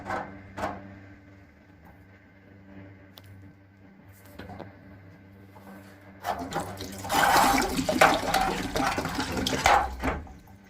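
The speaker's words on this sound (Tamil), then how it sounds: "எடுத்த உடனே தண்ணி வெளியாகும்." Water gushing and splashing out of an electric water heater tank as its old heating element is pulled out, a loud rush starting partway through after quieter handling noises.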